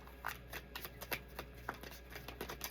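Quiet riffling of a deck of cards being shuffled, a quick run of soft flicking snaps close by.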